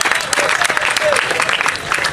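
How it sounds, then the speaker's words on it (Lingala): A crowd applauds and cheers for the head of state, dense clapping that carries on unbroken and loud throughout. "Il a fallu bien acclamer encore pour le chef de l'État."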